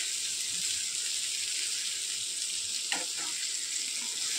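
Crisp-coated surmai (kingfish) pieces frying in a pan give a continuous bright sizzle, with one brief knock as pieces are flipped partway through; no voices.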